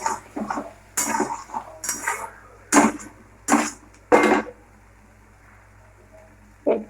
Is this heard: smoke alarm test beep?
no